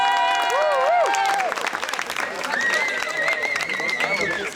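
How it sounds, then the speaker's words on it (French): A crowd at a strike rally claps and cheers, the applause building as a loud voice and whistling carry over it before settling into a steady patter of clapping. "On peut s'applaudir"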